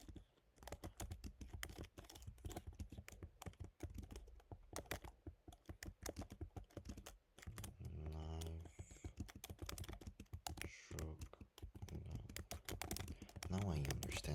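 Rapid, uneven clatter of typing on a QWERTY computer keyboard, close and fairly quiet, with a person talking intermittently over the keystrokes.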